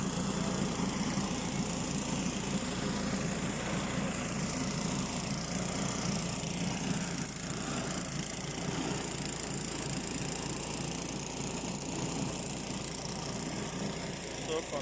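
An engine-driven grinder processes washed cassava for garri, a continuous loud droning engine and grinding roar that holds steady throughout, close by.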